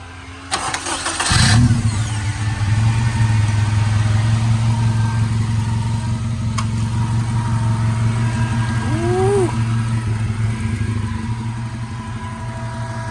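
A Honda EK with a K-series engine swap cranks over and catches, then settles into a steady, loud idle that runs on alone with a brief revving swell near the end.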